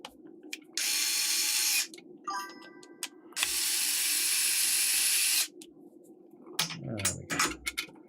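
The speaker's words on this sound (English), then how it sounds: "let's put them screws back in" Screws being driven back into a Sega SG-1000 console with a powered screwdriver: two sustained whirring runs, one short and one longer, with brief ratcheting clicks between and clattering handling noises at the end.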